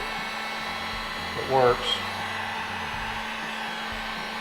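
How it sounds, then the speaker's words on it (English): A heat gun blows a steady, loud stream of hot air in a garage while working on a water-methanol injection pump, a constant whooshing hiss under a brief spoken comment. "So I'm gonna try to hit a little bit of a heat gun"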